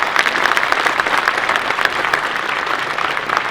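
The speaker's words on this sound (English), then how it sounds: "Let's applaud to the organizers." Crowd applause for the organizers at a World of Tanks esports league finals event in Warsaw, sustained and dense clapping from a large audience filling the whole stretch.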